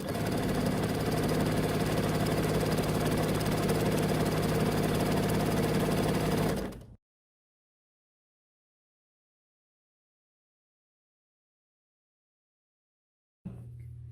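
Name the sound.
sewing machine stitching a seam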